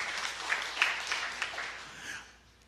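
A church congregation claps during a sermon, a soft crackle of applause at a moderate distance that swells in a few bursts before fading away, with no voices over it.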